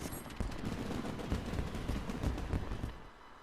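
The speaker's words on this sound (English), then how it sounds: "You can hear the fireworks." Dense crackling volleys of fireworks in the Final Fantasy XIV Rising event, rapid overlapping pops bursting continuously and loudly for several seconds like distant gunfire, with no talking.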